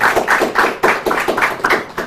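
An audience claps for a coach at a church Bible contest, a brief burst of close, rhythmic hand clapping.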